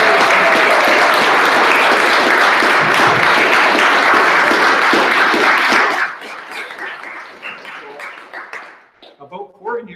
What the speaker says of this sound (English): And I wanted you to give an enormous and rousing applause